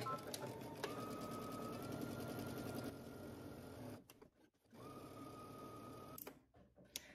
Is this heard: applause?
no